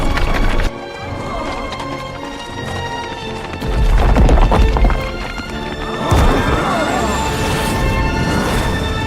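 Horses gallop in an anime scene, their hooves pounding in loud rhythmic clip-clop bursts that swell and fade with crashes and whooshes, set within a dense dramatic soundtrack.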